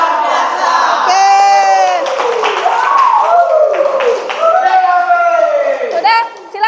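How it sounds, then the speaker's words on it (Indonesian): A classroom of students shouts and cheers together in loud, chanted bursts, with some clapping mixed in under the crowd of voices throughout. "Siapa suka hati tepuk tangan?"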